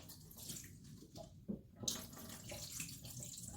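Water pours steadily into a sink, a soft continuous splashing with a brief clunk partway through, heard up close, as rinse water is poured off homemade butter.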